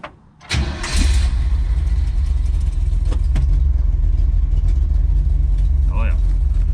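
A project car's engine cranks and fires, then settles into a deep, steady rumbling idle that stays loud and close throughout, with a person briefly talking over it.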